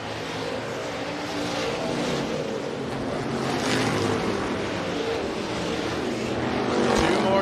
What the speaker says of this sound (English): All top 4 cars go to the top side of the raceway.